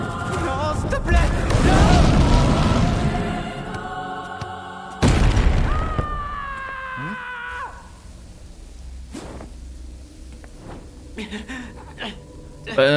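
In the video game Dragon Striker, two deep booming explosions land seconds apart, each a loud low burst that rolls off, with tonal game effects and voices around them.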